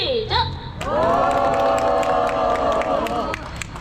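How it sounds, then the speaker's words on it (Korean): Crowd cheering and shouting at an outdoor protest rally in Seodaemun, a sustained loud roar of voices that swells and holds for a few seconds. "자, 다시 한번 환호를 시작!"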